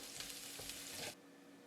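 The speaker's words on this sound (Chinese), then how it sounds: "用中火先炒胡萝卜片" Carrot slices stir-frying in a wok over medium heat, with a steady close sizzle and scraping stirs for about a second before the sizzle drops to a quieter hiss.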